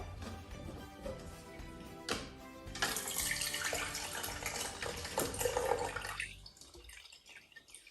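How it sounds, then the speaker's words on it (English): Strawberry juice poured through a handheld strainer into a cup, a trickling, splashing stream that starts quietly, grows fuller and steadier, then thins to a few drips near the end. "I've just got this strainer here. I'm going to place it on top. Make sure you hold the handle and point the juice in the middle."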